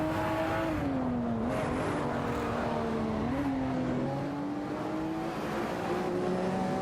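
In a racing video game, a Lamborghini Murcielago SV and a BMW 3.0 CSL Homage scream along in a continuous loud engine drone, pitch rising and dipping with gear changes and throttle, without pause.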